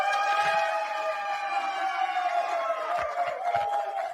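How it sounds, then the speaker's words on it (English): A crowd cheers and whoops loudly at a Republican gathering as a guest named Rod Joseph is called up, with a sustained blend of shouting voices and a few claps. "Whoa, what a cheering section."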